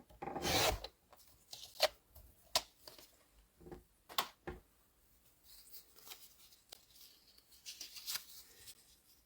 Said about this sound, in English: we're going to want to trim so you can actually get quite a few cards out of this